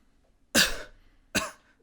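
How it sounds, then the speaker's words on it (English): Two separate dry coughs from a man close by, loud and abrupt, spaced under a second apart, with no talk over them. "It was dry cough."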